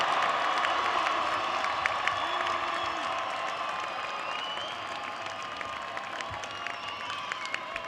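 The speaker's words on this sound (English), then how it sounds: "give them a big round of applause for the support they've given you" An audience at the New York City College of Technology 85th commencement applauds and cheers, a broad, steady wash of clapping from a large crowd in a big hall, with a few shouts scattered through it.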